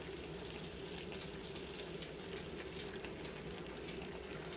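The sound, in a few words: vegan puttanesca sauce simmering briskly, almost boiling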